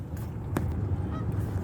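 Geese honking in rural southern Iowa, a few faint, brief honks over a low outdoor background rumble.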